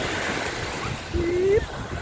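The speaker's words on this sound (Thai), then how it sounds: "ลมเริ่มแรงแล้วค่ะ" Strong wind gusts across the microphone on a sea beach at Bang Saray, with surf rolling underneath as a steady broadband roar; a voice speaks briefly near the end.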